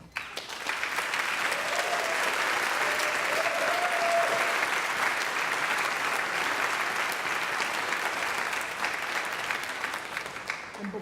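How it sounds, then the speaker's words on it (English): Hearty round of applause from a commencement audience in a sanctuary, a dense, steady wash of clapping sustained for about ten seconds with a faint tonal murmur early on. "acknowledge their past support and commitment to your future with a very hearty round of applause"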